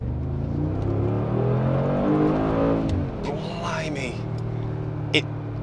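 Mercedes-AMG G63 SUV engine droning steadily as it accelerates along the road, a sustained low rumble that rises in pitch, with a person talking over it much of the time.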